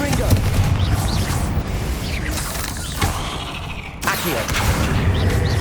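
Confringo fire spell cast in Hogwarts Legacy, with loud rumbling blasts and mechanical clanks piling into chaotic combat noise, one sharp drop and renewed burst near the end.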